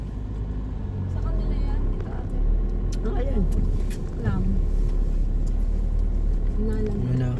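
Road traffic on the Malico road between Isabela and Pangasinan makes a steady engine and road rumble from inside a moving vehicle, while people talk over it.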